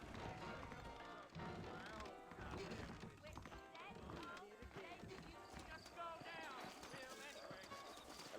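Horses' hooves clip-clop in a Red Dead Redemption game scene, rhythmic hoofbeats mixed with game sounds and voices talking over them.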